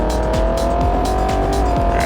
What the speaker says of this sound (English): it's the fastest car in this lobby